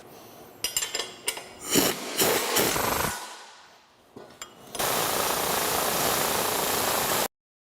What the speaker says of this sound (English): We've got our bolts all tightened up